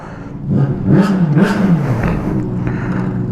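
A Honda CBR sport motorcycle engine revs up in a couple of rising and falling bursts, then settles into a lower steady growl, fairly close.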